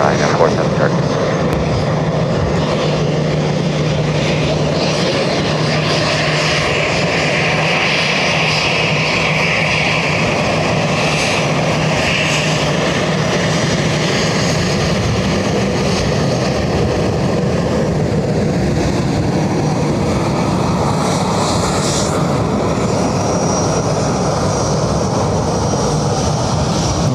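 A Qatar Boeing 777 with a blown tyre lands at Dublin Airport, its steady jet roar and rumble heard from a distance and sustained for nearly half a minute, with faint radio chatter mixed in.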